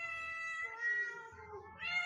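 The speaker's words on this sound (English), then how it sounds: "I'm just watching cute cat videos right now." A cat in a cute cat video meows clearly, drawing out one long, wavering meow and then starting a second, rising call, with nothing else competing.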